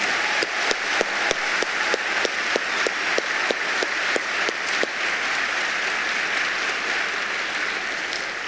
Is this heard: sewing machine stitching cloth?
no